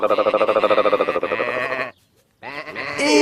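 A cartoon lamb bleating in rapid, wavering cries, loud and close, with a brief pause before another bleat.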